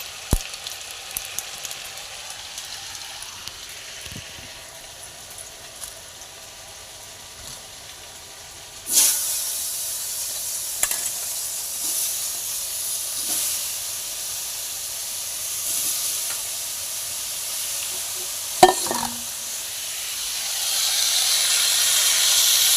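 Fennel seeds frying in hot oil in a wok: a quiet kitchen background breaks into a sudden, loud, steady sizzling hiss partway through, with a few sharp crackles and pops near the end and no talking.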